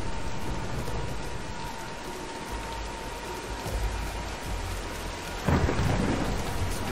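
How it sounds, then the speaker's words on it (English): Heavy rain pours steadily in a thunderstorm in Tomb Raider, a dense hiss with low rumbling thunder underneath, and a sharp, louder thunder crack near the end. "let's wait out the storm"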